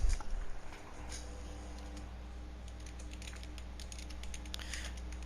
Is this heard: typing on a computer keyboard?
yes